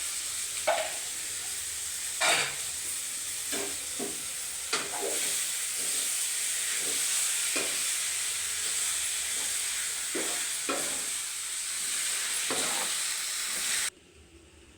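Vegetables fry in a pan with a loud, continuous hiss and crackle, broken by repeated scraping stirs, before the sizzle drops away abruptly near the end.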